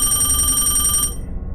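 An incoming phone call rings loud and steady in a repeating electronic ring for about a second, then stops, leaving low background rumble with no talking.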